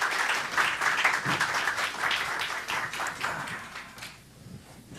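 A seminar audience applauds to welcome two speakers onto the stage, dense steady clapping from a crowd that holds for about four seconds and then thins out toward the end.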